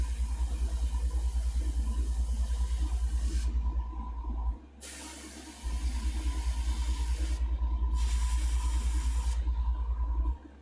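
Airbrush spraying paint onto a model X-Wing Sith Infiltrator for a stealth effect, a steady broadband hiss running continuously over a low compressor hum, pausing briefly twice before resuming.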